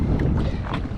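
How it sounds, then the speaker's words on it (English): Waves slap and knock against the hull of a small fishing boat out on windy water, a close, loud, choppy wash of thuds with rushing wind noise. "You can hear the boat, you can hear the waves hitting the side of the boat."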